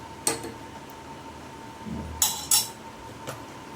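A spoon stirs milk tea with sugar in a pan, giving a few sharp metallic clinks and scrapes spaced apart against a quiet background hum.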